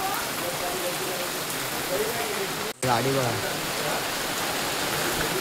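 Heavy rain pours down in a steady, loud hiss during a monsoon road trip to Konkan for the Ganesh festival, with a brief break midway and people talking over it.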